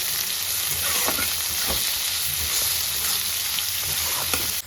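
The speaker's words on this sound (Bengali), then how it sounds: "3টে মিডিয়াম সাইজের পেঁয়াজ কুচি দিয়ে ভালো করে ভেজে নেব" Three medium chopped onions fry in hot oil with whole cumin. The loud, steady, close sizzle carries on throughout, with soft stirring scrapes of a spoon.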